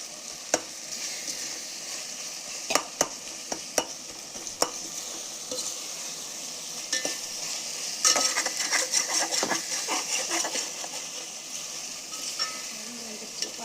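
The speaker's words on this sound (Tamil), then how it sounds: "நல்லா கொஞ்சம் தக்காளியெல்லாம் வதங்கி வரணும்" Tomatoes sautéing in a pan for mutton biryani, a constant hiss of frying broken by sharp metallic taps of a ladle against the pot, then a busier run of scraping stirs near the middle.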